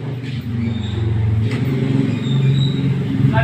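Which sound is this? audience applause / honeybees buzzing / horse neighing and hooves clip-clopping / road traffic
road traffic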